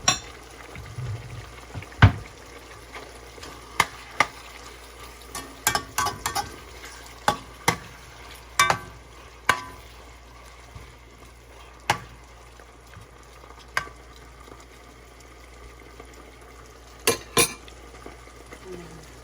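Bottle gourd and carrots sautéing with oyster sauce in a pan, a soft steady sizzle broken by sharp clacks of a utensil stirring against the pot at irregular intervals, close and fairly quiet with no talking.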